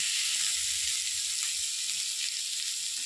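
Cluster beans (goru chikkudukaya) frying in a pan, village style, with a steady close bright sizzle and hiss running unbroken throughout, no voices.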